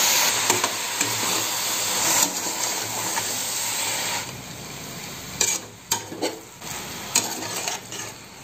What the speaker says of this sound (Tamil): காளான போட்டு நல்லா கிளறி விட்டுக்கலாம்.